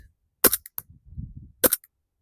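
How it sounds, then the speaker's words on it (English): A WE airsoft Glock 17 Gen 5 gas blowback pistol misfires. Two sharp, close pops come about a second apart, each a brief crack with a faint rattle, and a low muffled mumble sits between them. "here just fails to cycle enough to get a BB out."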